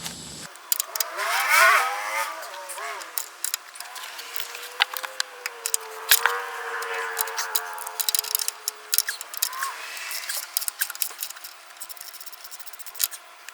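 Engine mount bolts being removed from a 1977 GMC motorhome during engine removal: close ratcheting, metallic scraping and rubbing that run steadily for several seconds, with scattered clicks and clanks.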